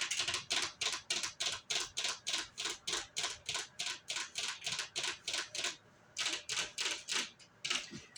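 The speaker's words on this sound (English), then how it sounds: "I'm going to just do some little tapping for you guys." Steady series of light, crisp taps on tarot cards, evenly paced and close, with a brief pause near the end before the tapping resumes; no talking.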